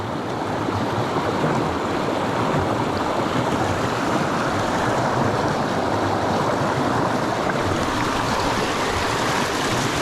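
A small mountain stream, fished for trout, rushes and gurgles in a dense, constant wash of water, close and loud throughout with no voices.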